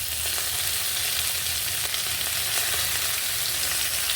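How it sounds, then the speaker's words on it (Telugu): Chopped amaranth and ponnaganti leaves fry in hot oil with mustard seeds, cumin, chillies and garlic, a loud continuous close sizzle with faint stirring, no voices. "చిన్న చిన్న ముక్కలు కట్ చేసుకొని ఫ్రై చేసుకోవాలి"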